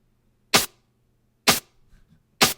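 Three sharp, bright bursts of gated white noise from an Ableton Live drum sound, each cut off abruptly, spaced about a second apart like a snare hit with a gated tail.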